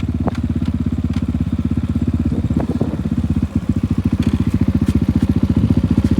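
Loud, close engine chugging at a steady, rapid pulse while riding a Kovi Lite 300 2025 after rain, with a brief rattle partway through.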